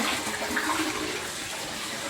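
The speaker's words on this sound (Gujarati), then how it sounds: "એક બાજુ પાણી ચાલુ છે" Water runs from a tap into a container, a steady gushing splash at fairly low level, continuous throughout with no voices.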